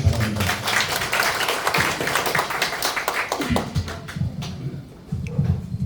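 An audience claps to welcome a speaker at a public lecture. The dense applause carries through most of the clip, thins briefly, then picks up again.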